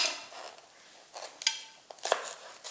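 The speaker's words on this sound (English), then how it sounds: "we have to chop up a bit of spring onions" Kitchen knife slicing spring onions on a board, giving a few crisp cuts mixed with light clatter of dishes and utensils, close and fairly quiet.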